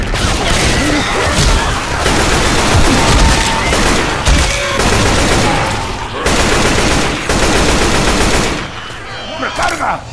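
Shotgun fire in Left 4 Dead 2 comes as dense, loud, continuous blasts and overlapping gunfire through the whole stretch, with a voice faintly mixed in.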